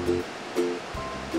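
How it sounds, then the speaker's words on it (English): Steady broadband rush of falling water at Ke'imu Kunaka Falls on the Big Island of Hawaii fills the clip, with a few faint tonal blips over the constant roar. "Harrison brought us to the Ke'imu Kunaka Falls."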